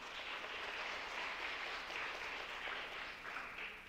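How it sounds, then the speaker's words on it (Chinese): A church congregation claps in welcome during a Sunday worship service, a soft, fairly distant wash of applause that holds steady for a few seconds with no voices over it. "玉云姐妹，在这边拍手欢迎啦。"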